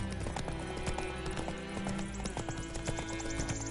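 Horse hooves gallop in steady, rapid clip-clop beats on a road in the video game The Witcher III, continuous and fairly close at moderate volume.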